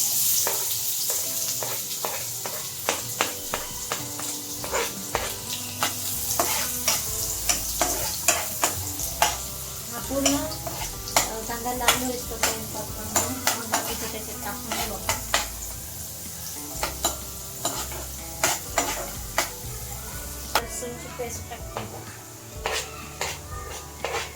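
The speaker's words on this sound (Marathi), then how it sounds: "त्याच्यात पण पहिले कांदा परतवून घेऊ" Onion frying in hot oil for a spicy prawns fry hisses steadily as a spatula stirs it, with frequent sharp clinks and scrapes against the pan close by.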